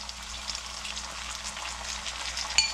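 Curry leaves crackling and sizzling in hot oil for a Karnataka-style spiced brinjal rice, a steady close frying hiss with small sharp pops.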